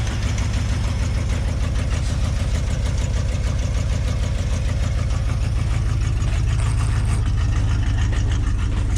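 A 1973 Ford F-250 truck engine idles after a cold start in snow, its rough, steady low rumble continuous and loud close by.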